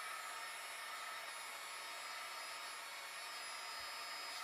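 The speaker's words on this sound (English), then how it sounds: "I have a heat gun, which I don't recommend." A heat gun blows hot air steadily over gun parts and grips to warm lubricant, a faint, even airy whoosh with a high hiss that holds unchanged throughout, with no voices.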